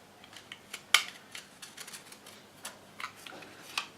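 Scissors snip and trim material around an edge wrapped in Kevlar, a quiet sequence of crisp cuts with one sharp louder snip near the start, close up with no talking.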